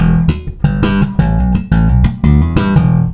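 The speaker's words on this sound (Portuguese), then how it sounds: "Se eu desligar, ó, esse é o som do meu baixo." Electric bass plays a rhythmic run of plucked notes with the compressor pedal switched off, a clean, open tone and natural dynamics, heard on its own without voices.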